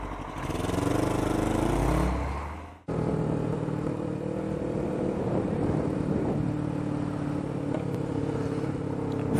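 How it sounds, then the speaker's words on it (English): A small 8-horsepower vehicle revs loudly through its exhaust, then cuts off sharply before settling into a steady, rough running drone close by. "I was just testing my exhaust out. Is it good? Does it sound good?"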